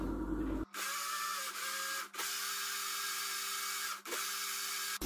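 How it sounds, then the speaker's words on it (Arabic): Blender grinding a baghrir batter mixture of semolina and liquid, a steady loud whirring motor hum after a quiet start, broken by a few brief dips in speed, with no talking. "غادي نطحن الخليط ديالنا مزيان"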